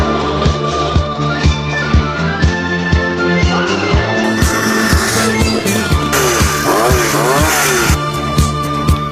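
A motorcycle engine runs loudly at close range at a petrol pump, a steady throbbing tone with regular pulses that climbs in pitch partway through as it revs.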